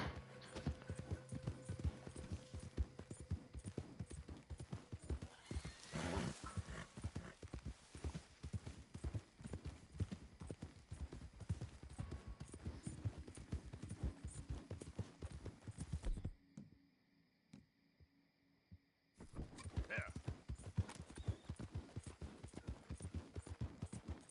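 Horse hooves galloping in Red Dead Redemption 2, a rapid continuous clip-clop thudding that runs steadily, briefly drops out, then resumes, loud and close.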